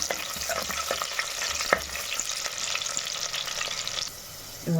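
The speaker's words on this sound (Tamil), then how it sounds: "வெங்காயம் நல்லா பொண்ணுமா வதங்கி வரட்டும்" Chopped onions sauté in a clay pot for a dried-fish curry, giving a steady, close sizzle punctuated by the scrape and clack of a spoon stirring, with no voices.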